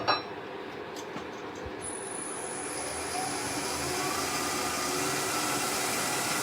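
A wood lathe spins up to a higher speed while turning a small piece, giving a steady broadband whir that builds and holds, with a faint high whine and a few light knocks near the start.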